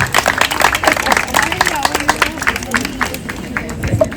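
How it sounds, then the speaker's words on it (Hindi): A crowd at a Diwali celebration event claps steadily in dense applause, with voices and chatter mixed in throughout. "Big round of applause."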